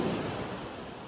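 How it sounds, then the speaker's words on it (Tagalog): Strong ocean surf at a crowded beach where children are swimming, a steady broad roar of breaking waves filling the whole moment with no voices. "Lakas ng alon."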